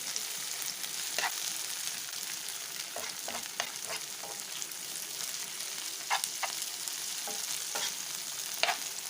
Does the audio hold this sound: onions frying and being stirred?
yes